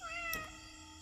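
A single short cat meow in the horror theme-park video game Indigo Park, heard clearly over a steady hum of background music.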